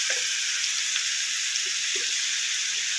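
Garlic and green chilli frying in a pan for a potato and gram flour curry give a steady, close, even sizzle that runs unbroken throughout with no talking.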